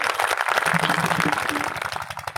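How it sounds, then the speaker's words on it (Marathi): Crowd applause at a kirtan gathering honouring Sant Balumama, a dense, steady clapping that fills the whole moment at close range, with a little talk mixed in. "त्यांच्यासाठी जोरात टाळ्या वाजवा"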